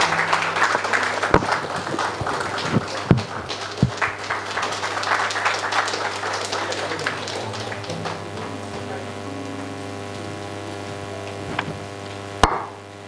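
Applause at a Marathi book launch ceremony, honoring Shivani: scattered, uneven clapping from a seated audience that is loudest at the start, tapers off, and gives way to a low steady hum and a couple of sharp knocks.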